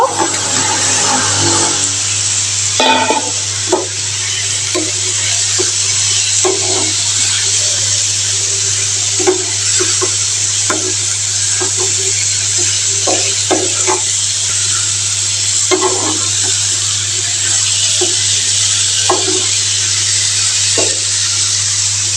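Boiled green jackfruit tossed into hot oil in a pan, frying with a continuous loud sizzle while a spoon scrapes and knocks against the pan in irregular stirring strokes, no voices.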